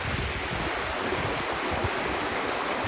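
Glacier meltwater from the Tablelands in Gros Morne, Newfoundland, rushes over rocks in a close, loud, steady roar of splashing water with no pauses.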